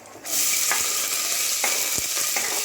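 Onions and spices frying in hot oil in a pan, a dense loud sizzle that starts abruptly and holds steady, with a few scraping strokes of a spoon stirring through it.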